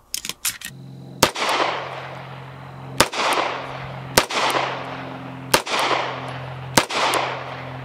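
Pistol shots from a Girsan Regard MC, a Beretta M9 clone, ring out at a range: a quick cluster and then single sharp cracks about a second apart, each with a long ringing decay.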